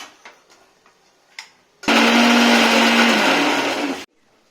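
A mixer grinder whirs loudly for about two seconds blending coriander chutney with rock salt, tamarind, shallots and fried red chillies, starting and stopping abruptly after a few soft clicks and taps from setting up the jar.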